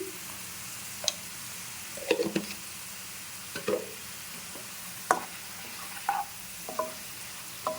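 Onions frying in a pan on high heat for dhaba-style green chicken give a faint, steady sizzle under scattered soft stirring clicks and scrapes, close by, with no talk.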